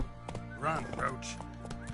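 Horse hooves of Roach in The Witcher, a galloping clip-clop over steady game ambience, with a voice speaking briefly over the hoofbeats.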